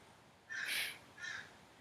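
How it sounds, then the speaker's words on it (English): Two harsh crow caws ring out in quick succession, the first longer and louder, the second shorter and softer, against a quiet background with no one talking. "the crows are crowing"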